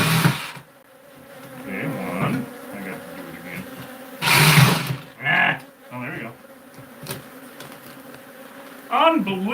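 Bees buzz at an old hive, a dense droning hum that swells and fades close by, with occasional rustling and handling bumps and brief voices.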